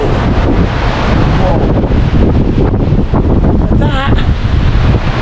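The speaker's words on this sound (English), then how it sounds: "Fucking windy up here, boy." Strong wind roars across the microphone high up at a lofty spot in Marbella, Spain, a constant loud buffeting rumble throughout the clip, with a voice briefly audible beneath the gusts.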